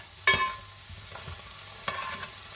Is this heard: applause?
no